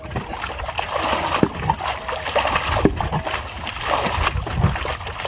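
Water being bailed out of a small wooden boat, a steady close-up wash of sloshing, splashing and dribbling with scattered knocks against the hull, continuous throughout.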